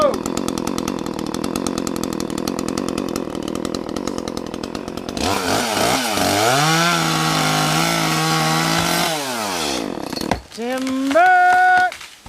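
A chainsaw cuts down a tree with loud, close buzzing and engine revs that rise and fall in repeated sweeps, while voices are heard alongside.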